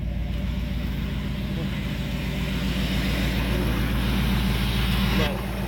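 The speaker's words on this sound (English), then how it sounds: "Alright, I got her idling." Car engine idling steadily after a cold start during routine maintenance, a low even rumble holding at constant level for several seconds, close by and without interruption.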